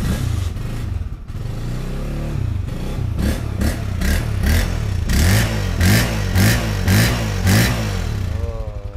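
A Royal Enfield Himalayan 400cc motorcycle engine idles and is revved in a series of rhythmic blips, rising and falling close by with a clattering mechanical edge, loud and without talk.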